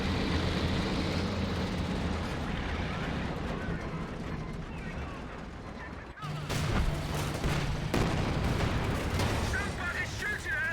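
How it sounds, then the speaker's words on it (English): Continuous gunfire and artillery rumble in a Company of Heroes 2 battle with Wehrmacht and British forces, dense and loud throughout with a brief dip partway, while voiced unit callouts play over the combat. "Somebody's shooting at us."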